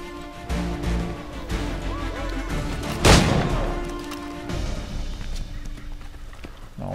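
In Assassin's Creed III, horse hooves clop amid a noisy game soundscape, with one sharp loud bang near the middle and a continuous rumble of activity around it.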